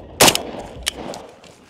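A gunshot striking an armor plate in a video game armor test of steel versus ceramic, one sharp loud crack followed by a smaller second hit and a fading tail.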